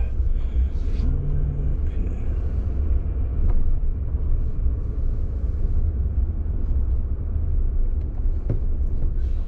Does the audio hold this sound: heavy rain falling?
no